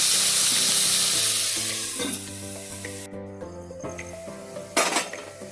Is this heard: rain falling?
no